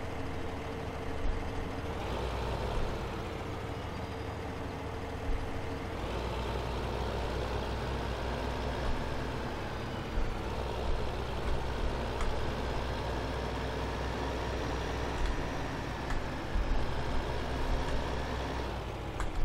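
Road traffic trucks in Farming Simulator 15, with the Grazyland soil mod, give a steady, loud engine drone with a low rumble that holds for the whole stretch and swells slightly now and then.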